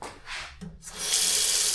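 An old tap in a small kitchen at a roadside stop is turned on, first a hiss, then a steady loud rush of water filling the sink, close by and with no talk.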